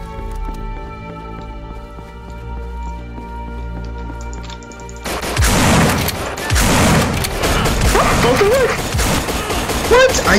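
Gunfire in a Half-Life 2 Deathmatch game, a dense burst of rapid shots that erupts suddenly after a quieter stretch of droning game ambience and carries on loudly to the end, with players talking over it.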